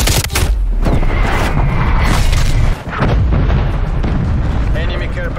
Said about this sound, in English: Get some artillery inbound on my cords.